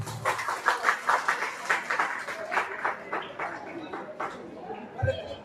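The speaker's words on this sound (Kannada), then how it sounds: "ತಾವೆಲ್ಲರೂ ಚಪ್ಪಾಳೆ ತಟ್ಟಿ ಅವರನ್ನ ಗೌರವಿಸಬೇಕಂತ ಹೇಳಿ ಕೇಳ್ಬೋದು" An audience claps to honour sanitation workers at a town panchayat sanitation workers' day ceremony: a fairly quiet burst of clapping with a pulsing, uneven rhythm that gradually thins and fades out.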